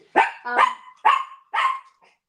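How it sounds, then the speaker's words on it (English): A house dog barks four times in quick succession, loud and close indoors, each bark sharp with a short tail, and nobody speaks. "Jonty's about to bark because Louis just come home."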